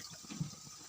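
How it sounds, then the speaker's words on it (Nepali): Water poured into a pan of lightly fried onions, giving a short, quiet gush and sizzle with a small splash partway through. "अनि यसमा चाहिँ अब म एड गर्दैछु वाटर"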